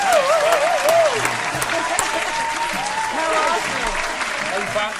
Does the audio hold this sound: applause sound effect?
yes